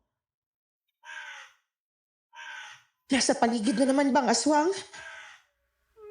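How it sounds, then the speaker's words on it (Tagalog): A wakwak bird gives two short, harsh crow-like caws about a second apart, fairly close and clear against silence, followed by a voice speaking. "Hindi ko alam pero yung huni ng ibong wakwak paulit-ulit."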